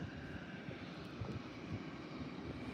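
Airplanes at San Diego airport, a steady broad engine roar from incoming aircraft, fairly distant and continuous throughout with no talking.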